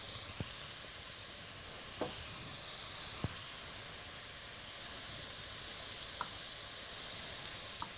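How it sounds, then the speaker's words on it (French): Mushrooms frying in a pan give a steady, moderately loud hiss and sizzle, with a few short clicks and pops scattered over the top. "on a une belle poêlée de champi là"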